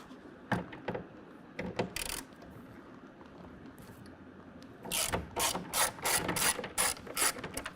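A hand ratchet loosens Torx bolts on a BAK Revolver X4TS tonneau cover fitted to a 2022 Toyota Tundra, giving bursts of close, crisp pawl clicks, a few short runs early and a faster clicking series near the end.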